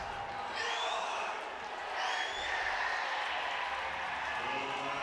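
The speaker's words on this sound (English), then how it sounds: "Georgia crowd is pumped up" A college baseball crowd at Foley Field, Georgia facing Tennessee, roars and applauds steadily from a distance, with sharp whistles rising above the cheering.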